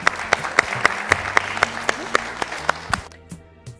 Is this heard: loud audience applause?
yes